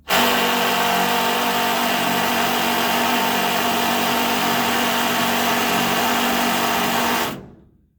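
A power driver strains to drive a fastener into a hanging beam, a loud steady high-pitched whine that runs without a break for about seven seconds before cutting off sharply.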